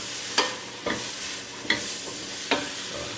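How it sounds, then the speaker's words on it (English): Chopped leeks and celery stirred in melted butter in a pot, four distinct scraping strokes spaced roughly a second apart over a low sizzle, close and moderately loud, with no talking. "Stir them, get them all coated."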